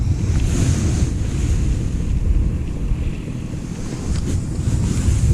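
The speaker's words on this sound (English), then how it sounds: "especially on a windy day like today" Strong wind gusts across a gravel pit lake on a blustery day, producing a heavy, continuous low rumble of wind hitting the microphone with lapping water beneath, loud and steady.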